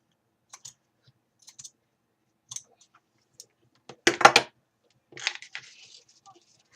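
A single layer of fabric is cut while making a sewn wall hanging: a few faint, scattered clicks and handling noises, then a short, crisp cutting burst close by, followed by a softer snip.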